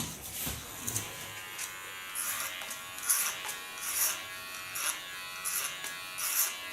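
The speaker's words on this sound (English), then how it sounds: "Shaving up the underlines." Electric clippers buzz in repeated short passes while shaving the nape hair at a salon, a steady mid-close whirr that swells and fades with each stroke, no voices over it.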